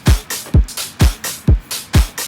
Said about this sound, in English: So actually it's just a drum loop that does the percussion,